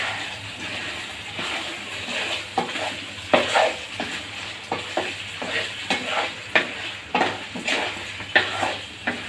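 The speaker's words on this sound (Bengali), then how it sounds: "এবার মাংস ভালোভাবে মিক্স করে নেব।" Tempered chilli and garlic being stirred into beef kala bhuna cooked in mustard oil, a spoon scraping the pan in a steady rhythm of close, repeated strokes over a constant low sizzle.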